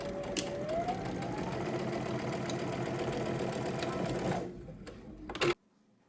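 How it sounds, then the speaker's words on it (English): A domestic sewing machine stitches a garment seam at a 5/8 inch allowance, whirring steadily at close range for about four seconds before slowing and stopping with a couple of sharp clicks. "Then you're going to head to the sewing machine. We're going to stitch using 5/8 of an inch seam allowance."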